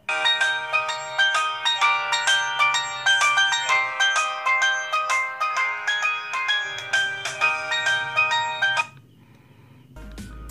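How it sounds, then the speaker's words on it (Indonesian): A bright melodic ringtone on a cheap budget mobile phone plays loudly and alone in repeating chimed phrases for about nine seconds, then cuts off abruptly. "Lanjut kita cek ringtone yang lainnya juga."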